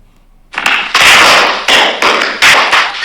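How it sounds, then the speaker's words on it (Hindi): Firecrackers go off as a sound effect in a series of about five sharp, very loud bangs, each followed by a crackling, hissing decay, close and with no voices. "गोनू झा ने जेब से कुछ आतिशबाजी निकालकर छोड़ी।"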